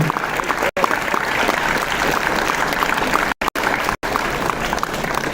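An audience at an IEEE international conference applauds loudly and continuously, with dense clapping running the whole time apart from a few abrupt brief cuts.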